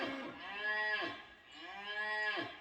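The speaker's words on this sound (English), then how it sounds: "the cows are in the background." Cattle moo twice near an off-grid cabin in the country, each call a loud, drawn-out low bellow rising and falling, with a short pause between the two.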